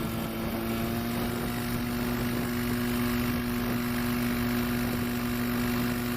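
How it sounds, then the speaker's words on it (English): A STOL airplane taking off during a Swamp STOL short takeoff and landing competition in Jennings, Louisiana: a steady engine drone with a strong sustained hum, held at even loudness throughout with no talk. "Steve Henry has taken off at 6 feet. Away he goes."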